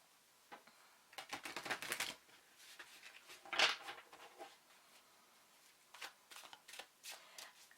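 Tarot cards are shuffled close by in soft, uneven bursts of riffling and slapping, quiet and with no voices.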